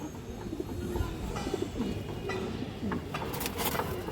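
Low pigeon coos repeat softly under a constant background hum, with faint rustling and distant noise.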